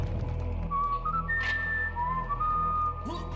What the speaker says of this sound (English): They didn't bother to whistle the tune themselves, but instead took an Easter egg from Serious Sam.